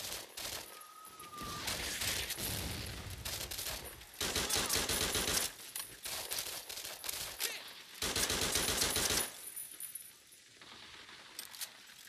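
Bursts of gunfire from the video game Medal of Honor Heroes 2, dense rattling volleys arriving in loud clusters with brief quieter gaps between them, with no talking.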